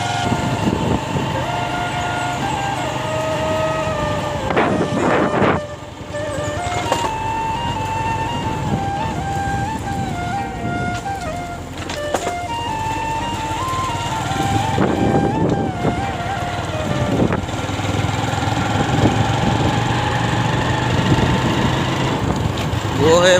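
A motorbike rides along a village road, its steady engine drone mixed with wind buffeting the microphone and a person speaking over it throughout.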